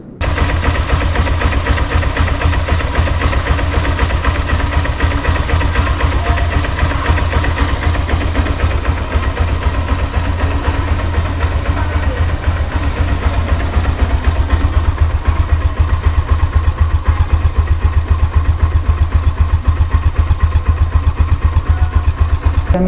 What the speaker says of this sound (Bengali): টাইমিং চেইন টেনশনারটা চেঞ্জ করার পর আমার বাইকের ইঞ্জিনের আওয়াজের এখন কী